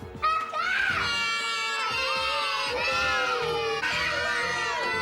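A toddler girl screams loudly and continuously with shrill, wavering cries, pausing only briefly for breath.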